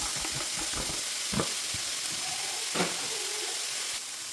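Carrots go into a hot frying pan that already holds browned meat, giving a steady loud sizzle and hiss with a few scraping stirs of a utensil against the pan.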